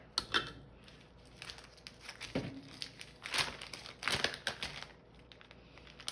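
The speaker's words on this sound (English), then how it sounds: "just gonna cut this coffee cup in half" A knife or blade cuts through a coffee-scented wax melt cup in its plastic clamshell, giving irregular crinkling, crackling and snapping bursts close up, with quiet gaps between.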